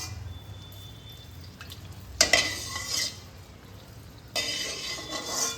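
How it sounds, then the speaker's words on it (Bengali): Ripe mango pitha goes into hot oil in a home kitchen. Its bursts of bright sizzling hiss swell each time a piece is dropped in, with a low background hum between them. "এবার আমি পাকা আমের পিঠে ভাজতে শুরু করব।"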